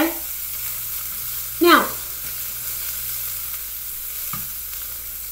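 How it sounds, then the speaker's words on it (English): Zucchini stir fry sizzles gently in a skillet while a utensil stirs it, with one loud scrape and clatter early on and a softer one later. A voice speaks briefly. "stir the whole thing to combine it"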